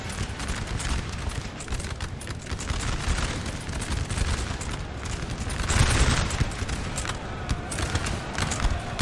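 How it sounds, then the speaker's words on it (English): Canister shot cannon fire rumbles across a Napoleon: Total War battlefield, a continuous rattling barrage of volleys and booms with a heavier swell of blasts midway, distant and layered. "And they just keep firing canister."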